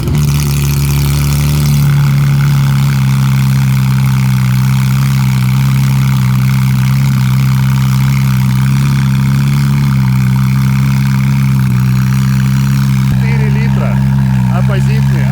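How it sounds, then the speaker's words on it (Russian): A Porsche 911 GT3 RS with a naturally aspirated, high-revving flat-six racing engine settles into a steady cold-start idle, a strong low drone held for the whole stretch, with people talking over it. "Оппозитный, атмосферный, гоночный двигатель от Porsche."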